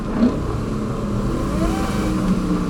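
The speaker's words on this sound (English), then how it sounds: "Like you can hear the supercharger." A 2001 Ford SVT Lightning pickup running on a track on dry-rotted tires, its engine revving steadily with a faint supercharger whine riding above the drone and nobody talking.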